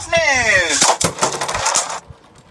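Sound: Beyblade Geist Fafnir top spinning after launch

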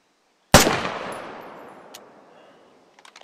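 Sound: rifle firing in SQUAD military shooter video game

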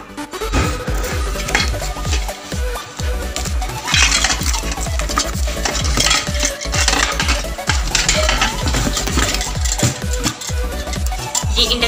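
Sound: handling a Milton induction pressure cooker

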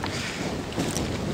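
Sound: strong wind on a lake

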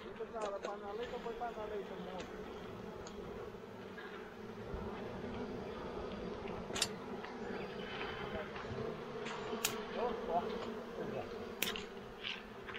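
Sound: bees buzzing around hive

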